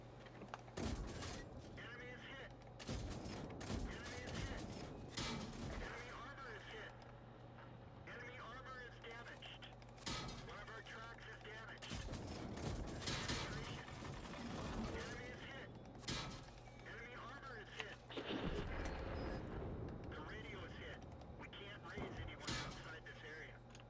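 Tank cannon fire from the video game World of Tanks, with heavy booming shots and mechanical rumble recurring every few seconds over steady engine drone, while someone talks throughout.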